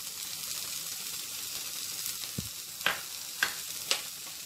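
Sweet corn, capsicum, carrot and green chillies fry lightly together in a pan with a constant soft sizzle, punctuated by a low thud and three sharp spoon clinks against the pan toward the end.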